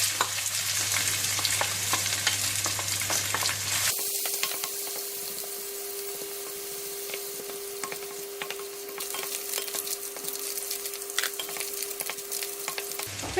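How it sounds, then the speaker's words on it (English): Anchovies (ikan bilis) drop into hot oil in a pan and fry with a steady, close crackling sizzle, briefly interrupted by a stirring clatter before the hiss continues evenly with a faint hum underneath. "So we're going to put it in and just fry it."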